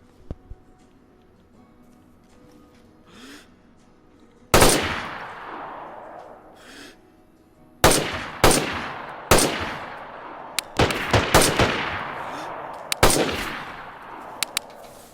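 Gunfire in the video game DayZ: sharp, loud gunshots crack out singly and in rapid bursts after a quiet stretch, with each shot ringing briefly and several clustered close together toward the end.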